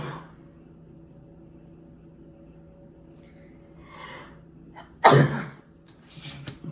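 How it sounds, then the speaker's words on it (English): A single sharp sneeze bursts out loudly against a quiet indoor background with a faint low hum, followed by a little rustling. "oh my God, I'm gonna sneeze."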